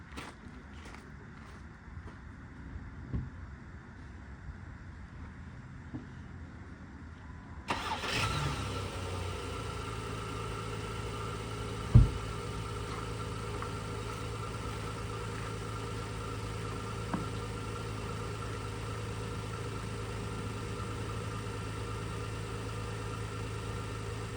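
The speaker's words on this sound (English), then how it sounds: "gonna start the other car" A 2005 Volvo S40 T5 being brought back to life cranks over and catches, then settles into a steady idle with a faint rev blip, heard close after a quiet stretch of faint clicks.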